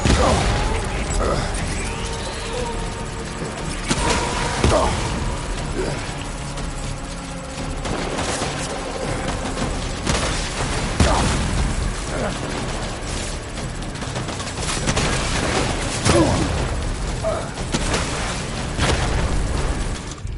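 Video game battle in Death Stranding inside a storm, with dense gunfire bursts and booming explosions overlapping continuously, loud and chaotic, with voices heard amid the noise.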